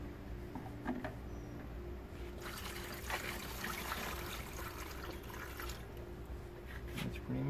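Distilled water trickles and gurgles as it is poured into a Honda Fit's coolant reservoir, a steady liquid stream running throughout with a soft voice underneath in places.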